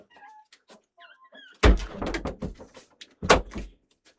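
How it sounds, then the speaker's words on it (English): Dogs whimper and whine briefly, then heavy thumps and scratching bang against a door in two bursts, close and loud. "My dogs be straight up knocking on the door to get in"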